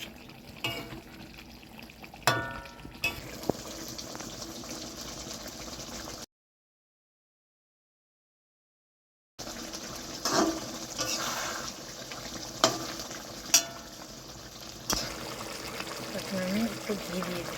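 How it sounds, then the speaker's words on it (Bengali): Fish curry in a hot pan is stirred after garam masala is added, giving soft wet scraping and bubbling with occasional clinks of the spoon, heard close with a brief silent gap partway through. "নেড়ে দিচ্ছি।"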